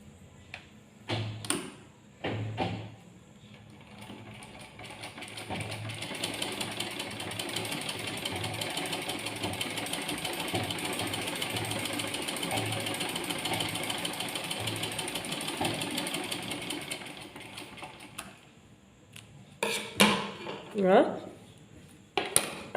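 A sewing machine runs a straight seam across fabric with wave tucks, a steady whirring, rattling hum lasting several seconds, bracketed by brief handling clunks and a bit of talk before and after.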